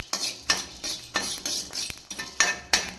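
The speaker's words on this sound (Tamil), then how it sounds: "இந்த மாதிரி வறுத்துடலாம் பாருங்க" Black urad dal dry-roasting in a pan for idli powder, stirred with a utensil in regular strokes, producing rhythmic rattling scrapes against the metal, roughly a dozen close, clear swipes over three seconds with faint sizzle beneath.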